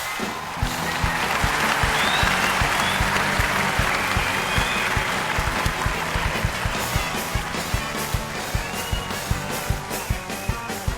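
A large studio audience claps loudly and steadily, dense applause filling the room with a rhythmic clap pattern emerging and a few whoops and cheers rising above it.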